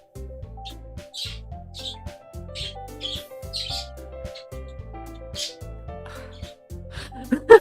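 Pet birds chirp loudly indoors in repeated bright bursts over a rhythmic low musical backing, the calls coming in quick clusters through most of the stretch.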